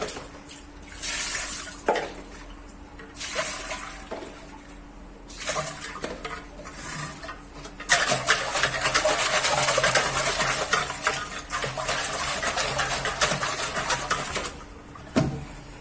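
Water sloshes and splashes inside an old clay water pot during rinsing, coming in several bursts with a longer steady pour near the end, close and fairly loud.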